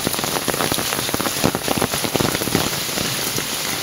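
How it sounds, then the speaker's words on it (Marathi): Heavy rain pours down around a village house, a dense, loud and steady hiss of drops drumming on surfaces, with no voices and no letup throughout. "समोर बघा केवढा पावसा आहे इथं."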